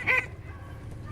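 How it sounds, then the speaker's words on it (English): A duck call is blown at a retriever dog competition, giving one short, loud, nasal quack-like blast followed by quiet outdoor ambience. "A little more vibrant duck call there"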